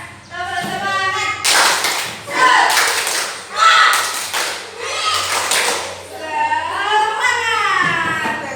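Children clap in rhythmic bursts during a classroom clapping game, several sharp volleys of claps separated by short pauses, with voices chanting and talking between them.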